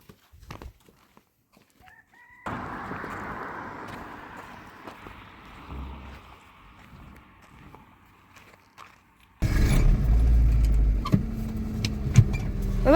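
A car pulls up outdoors in a rural Iranian village, its engine rising into a loud, close rumble in the final seconds, with quieter ambient noise and a rooster crowing earlier.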